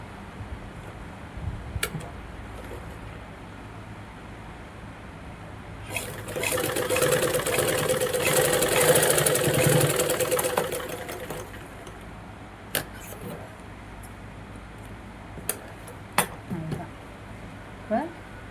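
A sewing machine runs in one steady burst of stitching along a blouse neck finished with a cross-cut piece, bracketed by quiet handling clicks before and after.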